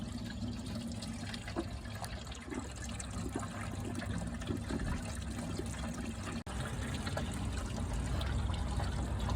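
Engine coolant drains from the bottom radiator hose of a Ford Escort Mk3 with a 1.1 Valencia/Kent engine, a steady close trickle and splash of liquid running continuously into a container.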